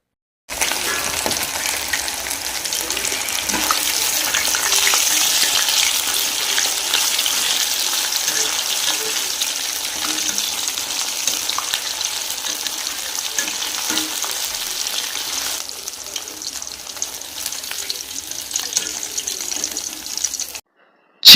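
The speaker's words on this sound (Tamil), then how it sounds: "எண்ணெய் காஞ்ச உடனே சிக்கன் பக்கோடா ஒரு பீஸாக எடுத்து போட்டு எண்ணெயில்" Pieces of chicken pakoda fry in hot oil, a loud, steady crackling sizzle held close for about twenty seconds, easing slightly toward the end, with faint background noise.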